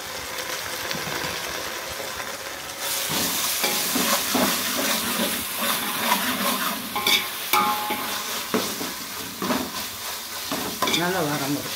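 Ginger-garlic paste frying with onions in a pan for beef curry, a loud continuous sizzle with frequent scraping stirs and spatula knocks against the pan.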